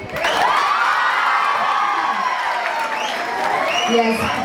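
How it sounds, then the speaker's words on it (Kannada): A crowd at a Kannada TV show round claps, cheers and whoops loudly together, with children's shouts mixed into the steady roar for several seconds. "ನನಗೂ ಒಂದು ಚಪ್ಪಾಳೆ ತಟ್ಟಿ"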